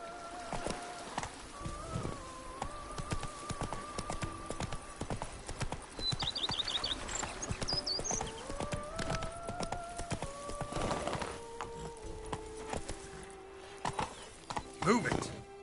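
Hooves of the horse Roach in The Witcher 3 beating a rapid, steady clip-clop through the whole stretch, close and clear, with a brief neigh, light musical tones and occasional talk over it.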